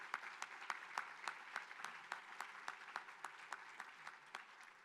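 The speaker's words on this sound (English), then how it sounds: "Now you can applaud." Audience at a 2023 volunteer awards ceremony claps in a faint, steady patter of distinct individual claps that hold an even pace throughout, with no voices over it.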